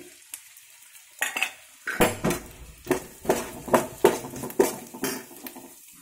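Cabbage and capsicum stir-fried in a pan for street-style veg fried rice: quiet at first, then a steady run of sharp spatula scrapes and clanks against the pan over a light sizzle, close and rhythmic.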